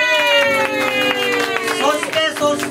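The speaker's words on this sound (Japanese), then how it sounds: "大きな拍手でお迎えください。" Audience clapping and crowd noise at an LGBT-themed talk event as a guest is welcomed onto the stage, steady and loud, with music tones running underneath throughout.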